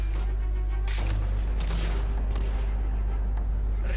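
Several sharp bursts of gunfire from the video game The Order: 1886 crack out over a constant low electronic hum, irregularly spaced across a few seconds.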